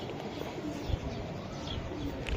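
Racing pigeons coo softly and repeatedly in a loft, against a dense background hubbub with faint voices nearby.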